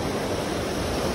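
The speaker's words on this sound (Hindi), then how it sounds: "मेरे को कितना प्यारा झरना है," A waterfall pours beside the mountain road down from Badrinath, producing a steady, dense rushing roar that is close, fairly loud and unbroken, with no voices.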